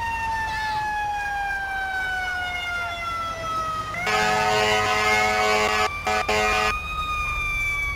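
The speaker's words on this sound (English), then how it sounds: "so I did change up the sirens. I hope it sounds better." A loud electronic fire engine siren from a Chicago fire engine in Grand Theft Auto V wails in a steady falling tone, then switches to a harsher rapid yelp with brief cutouts, synthetic and continuous.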